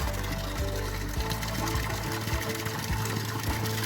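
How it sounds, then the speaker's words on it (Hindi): Cold spring water gushes steadily into a bottle in a mountain village on a trek near Mussoorie, a continuous close watery rush with faint low thumps beneath and no talking. "इस बोतल पे पानी भर रहे हैं यहाँ का"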